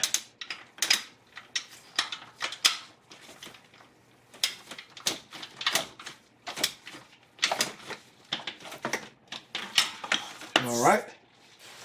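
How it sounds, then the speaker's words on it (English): A ratchet wrench tightens bolts to torque spec on a 1992 Acura Legend engine during timing belt work, giving a rapid series of close metallic clicks in irregular bursts, ending with a short squeaking rub. "Now I just need to tighten the bolts down to the torque spec, which is 16 foot-pounds."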